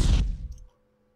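Two whip sound effects layered into one: a single sharp, loud crack that fades within half a second into a faint tail, heard alone.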